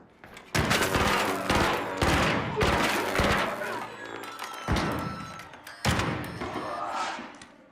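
Bursts of gunfire in the video game ARC Raiders, loud rapid volleys in several clusters with short gaps, shots cracking close by and echoing, with a voice briefly heard among them.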